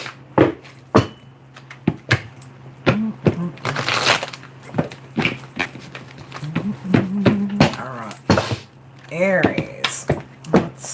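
A tarot card deck being shuffled by hand gives a rapid run of crisp clicks and papery slaps, near and fairly loud, with brief bursts of heavier riffling. A voice murmurs faintly in the background partway through.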